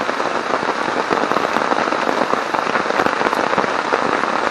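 Heavy rain falling on a wild campsite, a loud, dense and steady patter of drops on surfaces that continues without a break, with no one speaking.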